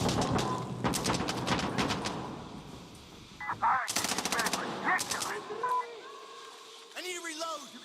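Rapid automatic gunfire in Insurgency Sandstorm, loud sustained bursts of shots with thumps and radio-like beeps, a player talking over the fighting.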